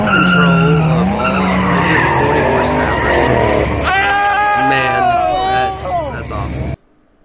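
A Subaru BRZ skids as its driver loses control at a car show, tires squealing and sliding over a revving engine while a crowd chatters and shouts nearby.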